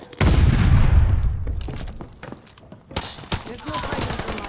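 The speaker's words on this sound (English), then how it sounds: "Tossing stun grenade." A stun grenade goes off in Call of Duty Vanguard multiplayer team deathmatch, a loud booming burst that rumbles and decays over about two seconds, followed by scattered sharp gunfire cracks and game noise.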